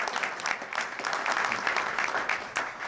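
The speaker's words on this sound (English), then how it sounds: "Let's give these legislators a great round of applause for their support" Steady round of applause from an audience at a governor's bill signing ceremony at LSU, many hands clapping in a dense, even wash throughout.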